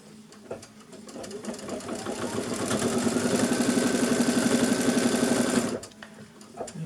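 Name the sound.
sewing machine stitching a straight line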